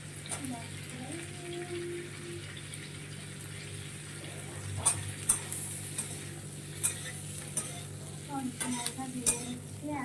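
Onion frying in a pan with already-browned garlic for chili chicken, a steady low sizzle running throughout with occasional stirring clatters and knocks in the second half.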